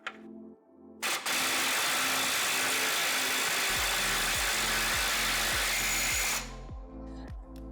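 A pneumatic impact gun runs on a rear wheel stud nut of a Camaro in a garage, a loud sustained rattling whir lasting several seconds with rapid hammering pulses, then cutting off.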